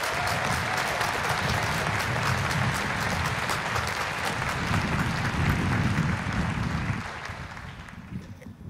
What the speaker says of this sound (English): if we could just give them a round of applause for all of their hard work